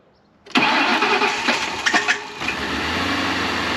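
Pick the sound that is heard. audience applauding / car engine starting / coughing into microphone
car engine starting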